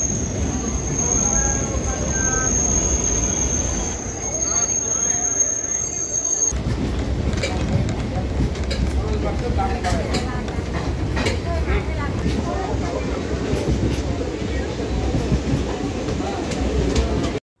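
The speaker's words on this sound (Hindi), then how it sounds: "हमारी ट्रेन धुबरी से 34 किलोमीटर की दूरी तय करने के बाद पहुंच चुकी है आगमनी" A passenger train on the Dhubri to New Cooch Behar line pulls into Agamani station with a steady loud rumble of wheels on rail, rhythmic clatter and a high squeal early on, heard from inside a carriage with voices faintly in the background.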